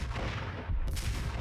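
Gunfire from an M79 grenade launcher in the video game Max Payne, a dense continuous burst of loud shots and booms with no talk, swelling sharply partway through.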